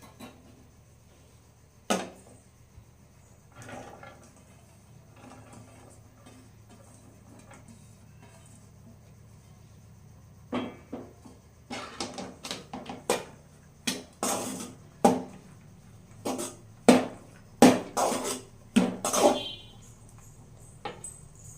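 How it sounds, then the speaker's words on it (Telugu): Rice being mixed with tomato gravy, with sparse soft taps early on, then a run of sharp, irregular clinks and knocks of a utensil against a vessel, close and growing busier toward the end. "ఇప్పుడు నాకు కొంచెం ఉంది, నేను రైస్ కలుపుతున్నాను"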